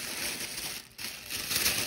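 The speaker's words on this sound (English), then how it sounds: "So let me just unwrap this here." Compostable paper packaging around a tarot deck being torn and crumpled open, a dense continuous crinkling and rustling close up with a short pause midway, no talking.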